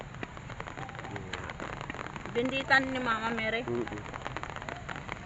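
Steady hiss of rain falling, with a voice speaking briefly over it midway.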